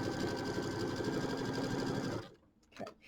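A sewing machine runs steadily, stitching a quarter-inch seam in one continuous loud burst, then stops abruptly near the end, leaving faint handling noise.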